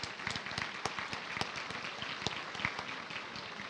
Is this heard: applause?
yes